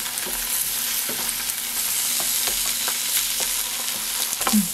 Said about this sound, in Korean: 두부를 이렇게 밀가루를 발라서 약간만 노릇할 정도만 구워주면 됩니다.